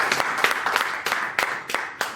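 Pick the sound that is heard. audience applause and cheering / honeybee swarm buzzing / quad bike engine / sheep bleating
audience applause and cheering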